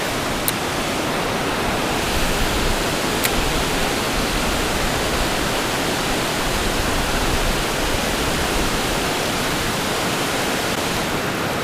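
Water rushing over a river spillway waterfall, a loud, dense, unbroken roar that holds steady throughout with no talk.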